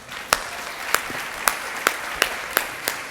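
Sparse, slow hand clapping from an audience at a grant announcement event, about seven distinct claps spaced roughly half a second apart, moderately faint in a quiet room.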